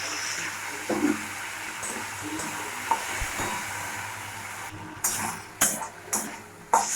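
Tomato sauce with chopped ginger and chili powder stirred in a pan over a steady low sizzle, with a few sharper scraping knocks near the end.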